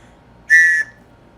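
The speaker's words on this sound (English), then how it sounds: "I also have an emergency survival whistle." One short, shrill blast from an emergency survival whistle, loud and close, lasting about a third of a second against near silence.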